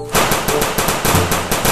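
Toy AK-47 assault rifle firing a rapid, evenly spaced string of about a dozen loud, close-up shots with no pause.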